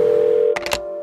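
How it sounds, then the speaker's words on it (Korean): An old-style telephone gives a steady dial tone, then three quick keypad tone beeps in a short burst as a number is dialled to call a friend, loud and close. "전화를 걸며"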